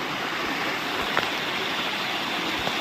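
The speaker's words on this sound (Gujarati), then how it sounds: "પાણી ધમ ધોકાર દાદરા ઉપરથી નીચે ઉતરે છે" Monsoon water rushes down the stone steps of Girnar mountain near Junagadh, a dense, loud, continuous roar of flowing water heard up close, with no voices.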